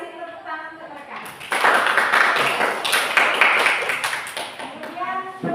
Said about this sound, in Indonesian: kita kasih tepuk tangan ke mereka